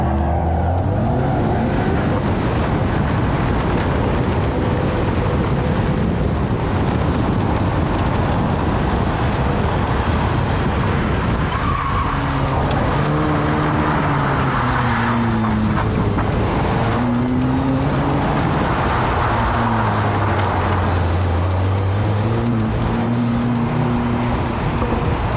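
A VW MK8 Golf R in Drift mode revs hard and close, its engine note rising and falling through repeated gear sweeps over constant road and tire noise, with bursts of tire squeal.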